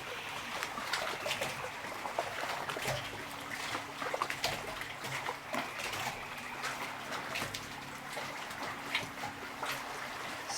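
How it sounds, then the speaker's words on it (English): Water trickles and laps gently at low volume, a soft continuous flow with small splashy ticks scattered throughout and no talking. "Enjoy the sound of the water, the waves."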